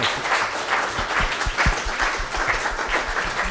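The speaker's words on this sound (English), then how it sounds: "Big round of applause for Ed for his candidness and openness." An audience applauds steadily, a dense wash of many hands clapping throughout, sustained without pause.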